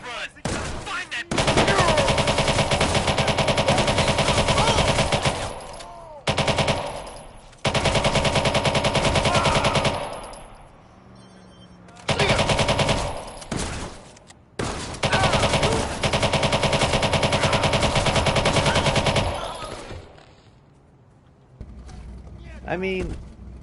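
Gunfire in the Watch Dogs 2 video game comes in long loud sustained bursts of automatic fire separated by brief pauses and mechanical noises, with some speech mixed in.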